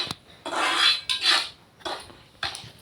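A spoon mixes salt into an amla pickle mixture, making several scraping, rasping strokes against the bowl in bursts separated by short pauses, close and clear with no talk.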